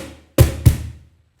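Two quick cajon slaps ring out in a samba pattern, each pairing a deep bass thump with a crisp snap, fading fast in a quiet room after a faint tail from an earlier hit.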